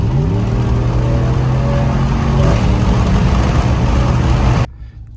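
A 2019 Ram 1500 with its stock air filter accelerates hard from a stop with the windows down, a loud, steady intake and engine roar climbing in pitch for several seconds before cutting off abruptly.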